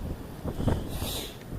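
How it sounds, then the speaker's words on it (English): Wind gusts across the North Yorkshire Moors at a frosty April wild camp, buffeting close to the microphone as a low, uneven rumble that swells briefly midway. "Hang on, this wind."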